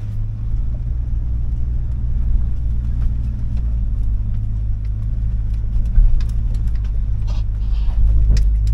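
An old truck's engine, idle for 15 years, rumbles steadily and loudly as it backs up in reverse, a deep continuous drone with slight surges throughout and no talk over it.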